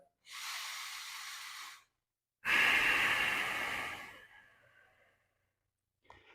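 Deep breathing during a mobility stretch: a long airy inhale, a pause, then a louder, drawn-out exhale that fades gradually, close and alone.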